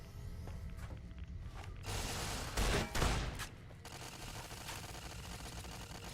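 Shotgun blasts in the Fallout New Vegas game, a burst of loud gunfire crowding the middle of a noisy battle mix, with a sustained roar of several shots over a couple of seconds.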